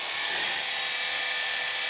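An electric beard trimmer around a decade old runs with a steady high-pitched buzzing whine, close and constant, with no talk.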